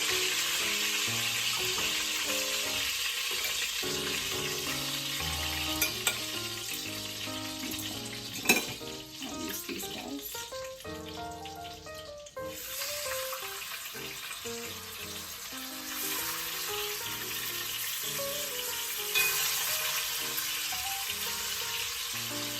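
Skin-on, bone-in chicken thighs frying in a hot pan, a steady loud sizzle and crackle throughout with a few clinks, no talking.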